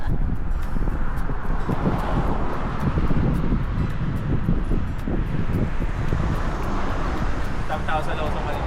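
Steady low rumbling wind noise buffets the microphone throughout on a day trip at Mt. Fuji, with a constant roar and occasional faint voices underneath.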